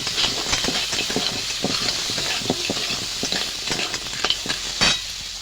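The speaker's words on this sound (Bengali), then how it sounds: "এবার ঘিলুগুলো দিয়ে দেবো কাঁকড়া মাছের।" Crab stir-fried in a pan for a spiced crab kosha, with its brains just added, sizzles loudly and continuously while rhythmic stirring strokes scrape through the hiss.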